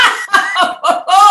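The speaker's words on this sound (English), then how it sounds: "Let me clear my throat" A person coughs and clears their throat in a series of short, loud, close bursts.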